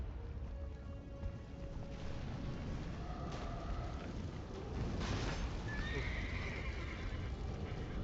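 A horse whinnies and snorts while its hooves clip-clop in The Witcher 3, a fairly quiet game soundscape with a longer neigh rising partway through and a steady ambient bed underneath.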